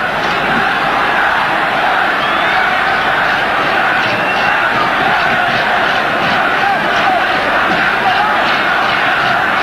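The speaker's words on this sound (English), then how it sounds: "The crowd chanting Zambia as he still come forward." A football crowd at a 1994 African Cup of Nations match between Nigeria and Zambia chants Zambia, a loud, steady roar of massed voices that fills the whole stretch with no break.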